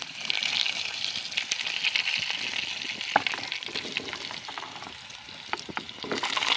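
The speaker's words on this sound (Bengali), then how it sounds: "ডুমু করে কেটে রাখা ওলকপিগুলো দিয়ে দিচ্ছি" Diced kohlrabi sizzles in hot oil tempered with cumin seeds and bay leaf, giving a steady close hiss with scattered sharp pops and spatters throughout, with no talking.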